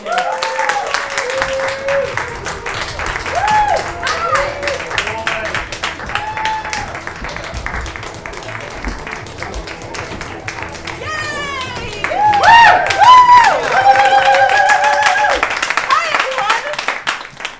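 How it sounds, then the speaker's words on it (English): An audience at an improv comedy show claps and cheers for the performing team as they come on stage, applause running steadily under excited voices and whoops and swelling louder toward the end. "let's give them a huge round of applause for the farm team"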